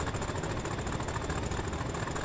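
Class 40 diesel locomotive engine in Train Sim World hauling a heavy oil train out of Manchester, a steady loud mid-to-low throbbing drone held at moderate revs, continuous with no talk.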